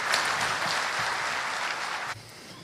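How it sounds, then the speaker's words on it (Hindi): A hall audience gives loud, dense applause to welcome the chief guest, a retired Air Marshal, at a Hindi-language lecture event on politics and Indian identity. The clapping stays steady for about two seconds, then abruptly drops to a quieter tail. "तालियों के साथ स्वागत करें।"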